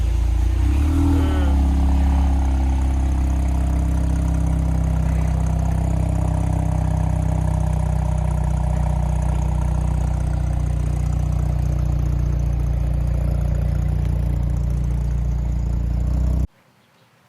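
A Mazda RX8 rotary engine idling: a loud, steady, low droning hum that holds evenly for about sixteen seconds with a faint rise early on, then cuts off abruptly.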